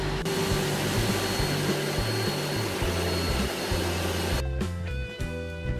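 A steady, loud hot-air welding blower hisses without a break while reinforced PVC membrane is welded onto the stairs of a swimming pool.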